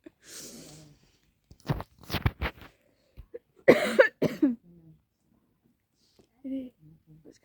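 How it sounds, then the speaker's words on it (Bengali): A person in a coughing fit, several close, sharp coughs in irregular clusters separated by quiet pauses, with a little voice in between. "কাশি শুরু"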